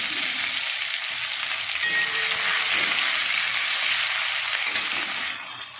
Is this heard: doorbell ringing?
no